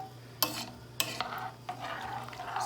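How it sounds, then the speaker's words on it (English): Rice and peas stirred in a pot, a few distinct scraping strokes of a spoon against the pot over a low background hum, close and fairly quiet. "I'm going to give that a stir"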